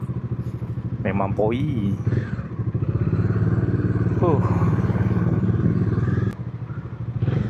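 A Yamaha Tracer MT motorcycle rumbles steadily while riding, a close, continuous engine drone with brief shifts in pitch, under someone talking.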